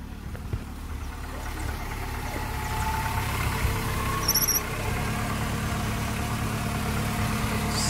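A VW Gol engine idles steadily just after starting, a smooth even hum with a brief high squeal partway through and no talking.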